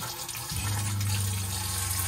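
Water running strongly from the sink tap in an off-road 4x4 ambulance-conversion camper, a steady close gush that starts abruptly after a short moment and keeps flowing.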